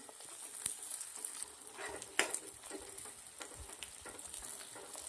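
Green chillies, a piece of beetroot and red and green bell peppers sautéing in a pan, giving a steady close sizzle and frying crackle with occasional stirring clicks and scrapes, no voices.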